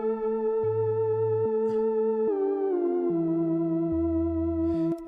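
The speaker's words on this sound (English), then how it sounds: "So I added the reverse plugin." A beat sample processed with a reverse plugin, sustained layered tones whose bass notes step through a slow progression, steady and moderately quiet with no voices.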